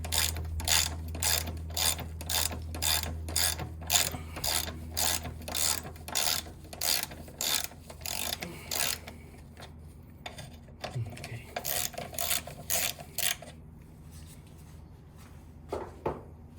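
Ratchet wrench clicking in quick repeated bursts while loosening bolts on a Mini Cooper R50/R53 during power steering pump removal, close and loud, with a pause then more bursts.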